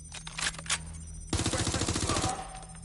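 Automatic gunfire in the video game Watch Dogs Legion: a loud, rapid burst of machine-gun shots rattling for over a second after a few scattered sharper cracks, close and dense.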